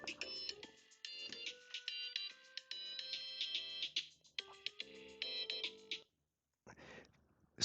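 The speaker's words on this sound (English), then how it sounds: "There was a phone call came in." A phone ringtone plays as a repeating melodic chirp during a medical talk on early-stage breast cancer, fairly faint and continuous for several seconds before stopping, then a short burst of noise.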